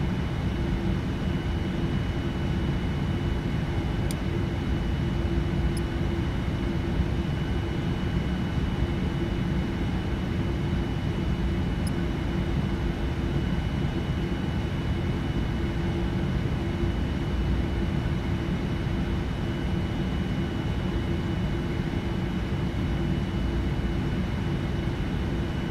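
A simulated airliner, a Boeing 787-9 in the Prepar3D flight simulator, taxis at an airport, giving a constant low engine rumble and broadband hum that holds steady throughout with a couple of faint clicks and no talking.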